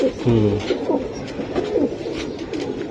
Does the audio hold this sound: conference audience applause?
no